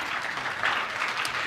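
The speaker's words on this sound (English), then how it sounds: "clap, you can make some noise" A congregation applauding at a Celebration Sunday church service, a steady wash of many hands clapping together, fairly close and continuous with no break.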